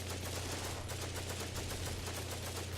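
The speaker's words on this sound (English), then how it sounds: "you see an MG starting to engage some units that I'm running across to the house" Sustained machine gun fire in the Combat Mission: Battle for Normandy wargame, a dense stream of rapid rounds rolling at a steady pace for the whole stretch, fairly distant and muffled, with no voices.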